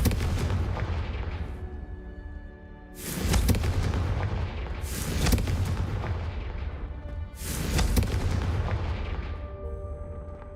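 Three heavy Confringo fire-spell explosions boom in turn in the Hogwarts Legacy video game, each a loud, close blast trailing into a crackling, rumbling roar, spaced a couple of seconds apart over continuous game noise.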